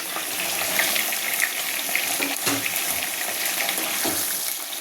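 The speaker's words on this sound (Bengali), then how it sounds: "হালকা হাতে নেড়ে চেড়ে এটাকে একটু ভাজা ভাজা মতো করে নিই।" Ridge gourd fries and gets stirred in a pan, giving a steady watery sizzle with intermittent scraping and clinks of a spatula, close and continuous without talk.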